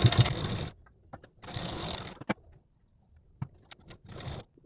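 A sewing machine stitching tucks on a blouse, running in short bursts of rapid mechanical whirring with quiet pauses and small clicks between them.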